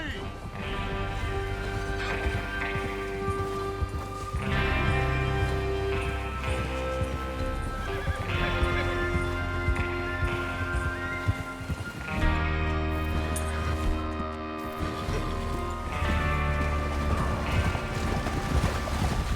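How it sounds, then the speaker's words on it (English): Horse hooves clop along at a quick pace in Red Dead Redemption 2, with occasional whinnies, under music and a talking voice. "Get your horses ready."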